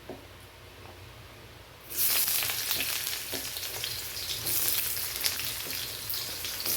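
One large onion for a chicken curry hits a pan of hot oil after a quiet moment, breaking into a loud, close, continuous sizzle with crackling pops and a few louder surges.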